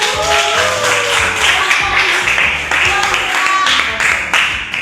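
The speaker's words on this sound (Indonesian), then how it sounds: "Tepuk tangan untuk kelompok 1." Junior high classroom students at SMPN 21 Medan clap for group 1, fairly loud, patterned clapping blended with voices and tonal sounds that continue throughout.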